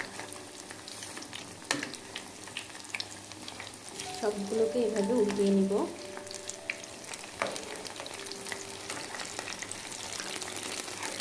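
Cauliflower pakoras fry in hot oil, a steady sizzle with a louder burst of bubbling as the pieces are turned over, while someone speaks over the cooking.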